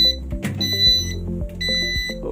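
An air conditioner's high-temperature alarm, triggered at about 31 °C in an automatic changeover setup, sounds a loud, steady electronic beeping tone in repeated bursts, with mechanical clunks and low hum underneath.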